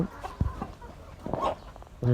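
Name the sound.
farm chickens clucking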